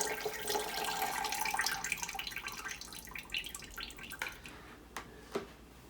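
Pork broth for pressure canning being poured from one vessel into a large pot, a soft trickling and splashing stream that tapers into scattered drips, quiet and close.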